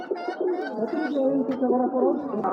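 Giribaz pigeons coo nearby in a continuous run of throaty, warbling calls that overlap one another, loud and close.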